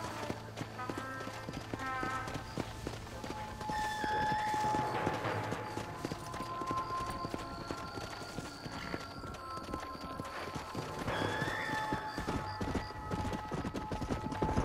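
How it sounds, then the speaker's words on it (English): Horse hooves in Red Dead Redemption: Undead Nightmare, a continuous clip-clop of a ridden horse in a steady rhythm, close and moderately loud, layered over game music and ambience with occasional tonal sounds. "A new horse for me?"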